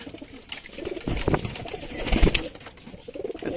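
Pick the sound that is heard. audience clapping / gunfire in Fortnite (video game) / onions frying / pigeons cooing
pigeons cooing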